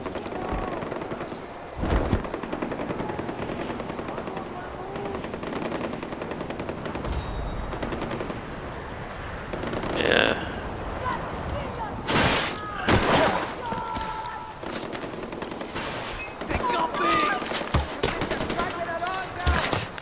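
Gunfire in Far Cry 4, rapid machine-gun bursts and scattered shots crackling over game background noise, heavier volleys toward the end, with someone talking over it.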